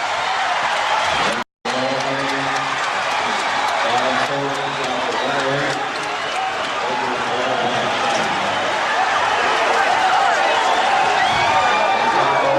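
An arena crowd roars steadily as the Chicago Bulls win the 1991 NBA championship against the Los Angeles Lakers. Dense cheering runs throughout, with a commentator talking over it.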